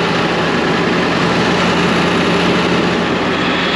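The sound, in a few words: truck engine revving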